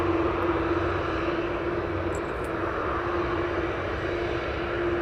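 An airliner departing East Midlands Airport for Milan, its engines giving a constant, loud roar with a steady tonal whine running through it for the whole stretch, without talk.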